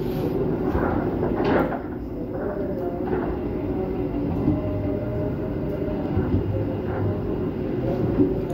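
Argo Parahyangan passenger train slowing as it rolls into Jatinegara station, a steady low rumble of wheels and carriages with faint clanks and rattles throughout, moderately close.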